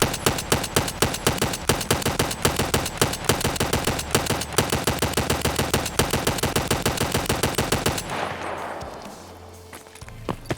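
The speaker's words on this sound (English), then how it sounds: "Now we're going to go full auto." Sustained full-auto gunfire from a rifle in Escape From Tarkov rattles in a rapid, steady stream of loud shots for about eight seconds, then stops, leaving a fading echo and a few scattered clicks.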